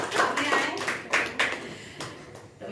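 A small class welcomes a guest lecturer in a free computer lesson with a scattered round of hand claps, a few uneven bursts close to the microphone.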